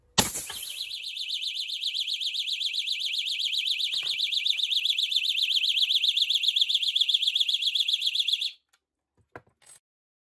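A TraceFlam flame detection system alarm is set off during a pressure test. It sounds as a loud, continuous warbling electronic tone for about eight seconds, then stops abruptly, followed by a few faint clicks.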